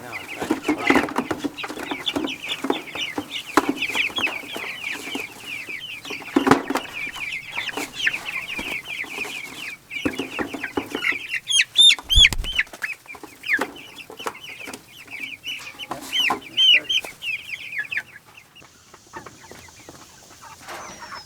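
Chickens cluck continuously inside a low-profile, predator-proof chicken tractor, a busy close chorus of clucks and squawks with scattered rustling and a few sharper calls near the end.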